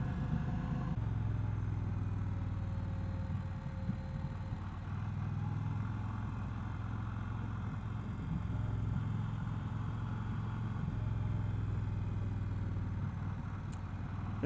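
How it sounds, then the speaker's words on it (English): Indian Challenger motorcycle engine straining on a steep decline along a mountain road, a steady mid-low engine drone heard up close and continuous throughout, with wind noise. "You can hear the engine straining."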